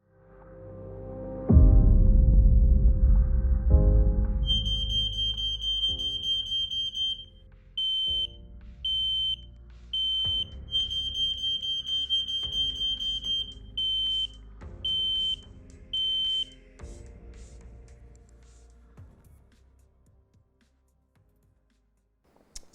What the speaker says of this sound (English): we're going to take a look at the difference between sounds of heat and CO alarms